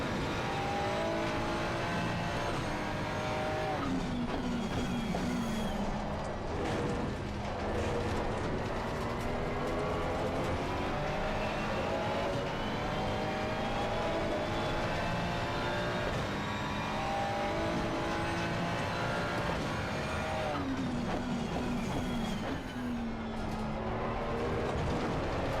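A Ferrari race car in a sim racing game drives continuously, its engine note rising and falling through gear changes at steady moderate loudness, with no talking.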